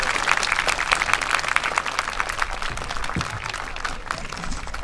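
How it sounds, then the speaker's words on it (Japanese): Large audience clapping for a first-year high school girls' wind band ensemble on stage, a dense sustained patter of many hands with a few sharper nearby claps, moderately loud and unbroken. "皆さんどうぞよかったらエールの意味も込めてもう一度大きな拍手を送ってあげてください。"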